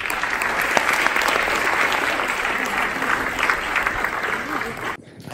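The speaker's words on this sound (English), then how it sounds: "Let's give him a round of applause." A conference audience gives a speaker a sustained round of applause, a dense, even wash of clapping with faint crowd murmur that cuts off abruptly near the end.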